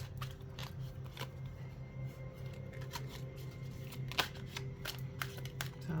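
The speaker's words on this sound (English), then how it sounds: "All right, so overhand shuffle without a problem." Oracle cards from an astrology-themed deck being overhand shuffled, giving soft repeated riffling slaps and brushes close up, steady and alone with no talking.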